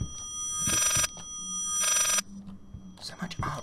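Two long rings of an old-style telephone sound in the horror game Layers of Fear, loud and harsh against a low ambient hum, followed by scattered knocks and shuffling noises.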